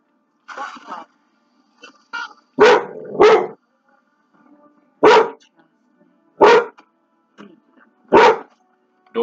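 A dog barks in loud, sharp bursts, a double bark followed by three single barks spaced about a second apart, close by, with a few faint softer yips between them.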